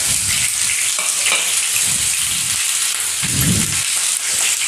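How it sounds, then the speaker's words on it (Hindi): Sliced onions, two bay leaves and dried red chilli fry in mustard oil for Bengali chicken kosha, a loud close sizzle with rhythmic stirring scrapes and bumps, no speech. "सबसे पहले हम इसमें डालेंगे 2 तेज़पत्ता जो लिए थे, सूखी लाल मिर्च, और कटी हुई प्याज।"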